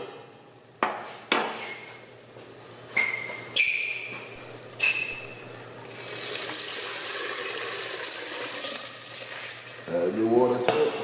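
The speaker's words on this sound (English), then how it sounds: "Then now you're going to stir it. Stir it all together. You don't want your garlic to get brown on you." Garlic fries in a pan while a utensil stirs it: several sharp scraping clanks, then a building steady sizzle with a bubbling, watery rush near the end.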